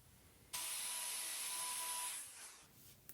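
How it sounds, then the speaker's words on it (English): A rotary trimming tool grinds steadily against a cow's hoof claw for about a second and a half, a loud, even whirring scrape that then winds down and fades. "We're going to do some more trimming here to make sure"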